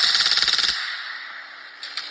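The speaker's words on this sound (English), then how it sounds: "full auto, 45 ACP, 16-round magazine" A full-auto .45 ACP 1911-platform pistol fires a fast burst of about a dozen rapid, loud close-range shots. A ringing decay follows, then two faint clicks or knocks.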